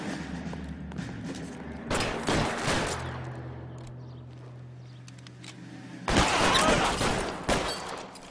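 Bursts of gunfire ring out in a shootout in L.A. Noire, with heavy shots and thuds clustered around two loud volleys separated by a quieter stretch with a low hum.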